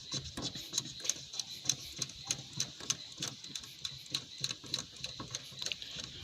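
The fuel primer pump on a Toyota Fortuner is worked by hand, producing a quick series of close, sharp clicking and ticking strokes in a fairly regular rhythm, with no speech.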